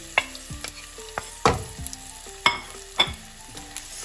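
Ginger garlic paste and spices sizzle in hot oil while a utensil scrapes and clinks against the pan in sharp, irregular strokes about every half second, close and clear with no talking.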